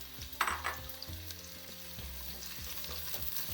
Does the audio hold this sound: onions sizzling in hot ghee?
yes